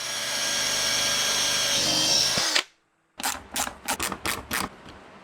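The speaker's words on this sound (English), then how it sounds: "Now it's time to drill." A power drill whirs loudly and steadily for a couple of seconds, stops, then fires in a series of short, quick bursts, drilling for an Audi S3 front lip.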